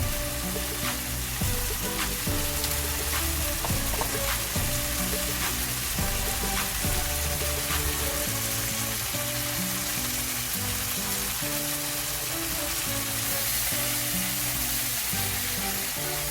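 Tomatoes for menemen fry in a pan with a dense, constant sizzle and occasional faint stirring ticks, close and steady throughout, with no one speaking.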